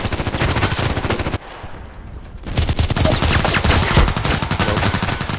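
Automatic gunfire in the shooter Contract Wars crackles in rapid, loud bursts, stops for about a second, then resumes in a long, dense stream of shots.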